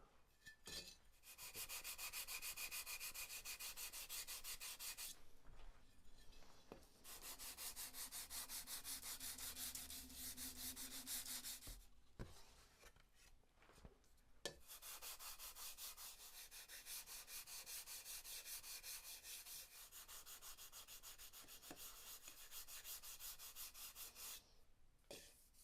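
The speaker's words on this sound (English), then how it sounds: "Now we'll take our 220 and sand that" Fine 220 grit sandpaper rubs by hand over wood parts of a model airplane build in long, steady, close-up strokes, with brief pauses between passes and soft handling knocks.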